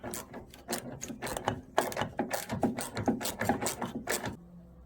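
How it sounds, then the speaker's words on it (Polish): A 10 mm socket on a ratchet turning a bolt on the door handle of a Chrysler PT Cruiser: steady, close clicking of the pawl in quick repeated strokes, then it stops. "Nasadka dziesiąteczka i kręcimy"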